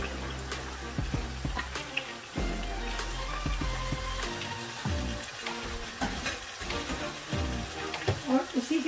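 Lamb sizzling as it fries in a pot for pulao, a steady crackle with stirring clatter and scraping throughout, no talk.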